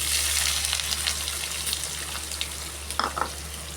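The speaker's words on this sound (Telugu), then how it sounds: "ఉల్లిపాయ ముక్కలు సన్నగా కోసుకొని పెట్టుకున్నాను వేసుకుంటాను" Thinly sliced onions dropped into hot oil with cumin for a jackfruit masala curry, giving a steady close sizzle and crackle, with a few sharper spatters and stirring scrapes near the end.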